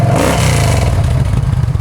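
A Yamaha V-Star 950 motorcycle with a 950cc air-cooled V-twin engine and 6,795 miles fires up, settling into a loud, close, steady low rumble with mechanical clatter and no talking.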